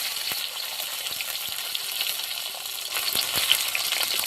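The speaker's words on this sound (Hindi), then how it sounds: "और इसको भी तल लेंगे, अच्छे से भून लेंगे।" Onions fry in a pan for a dhaba-style ridge gourd curry, making a dense, even sizzle up close with scattered light pops and soft stirring clicks, and no voices.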